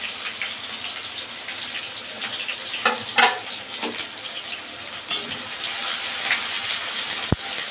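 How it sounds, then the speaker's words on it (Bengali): Onions frying in hot oil for crisp golden birista, a steady broadband sizzle running throughout with a few louder crackles and stirring clinks near the middle, close and fairly loud with no talking. "এদিকে দেখুন তেলটা গরম হয়ে গেছে, আমি পেঁয়াজটার বেরেস্তা বানিয়ে নেব।"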